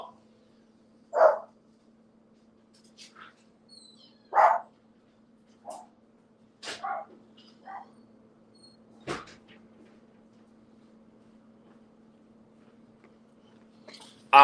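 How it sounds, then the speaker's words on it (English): A dog barks in short, separate bursts across a quiet room, a few loud barks and several softer yips spaced irregularly, with no voices. "I got to let this damn dog outside"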